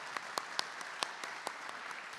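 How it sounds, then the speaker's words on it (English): Scattered applause from a small audience at a farm bill event, faint and distant, with a handful of distinct claps standing out over a soft, steady patter. "Just another round of applause,"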